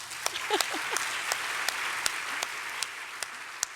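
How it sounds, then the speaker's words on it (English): Sparse, fairly quiet applause at a Vegetarian Hall of Fame event, with individual sharp claps standing out at irregular intervals over a soft wash of clapping. "I think that actually deserves a round of applause right there"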